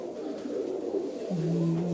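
Fancy pigeons coo softly in a loft, a low murmuring call that steadies into a clearer sustained coo near the end, quiet and close with no talking.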